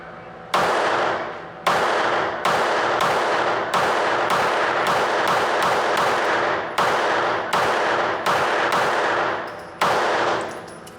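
A Glock 19 Gen 6 pistol fires a full magazine, loud sharp shots going off about fifteen times in quick, slightly uneven succession, each leaving a short ringing decay.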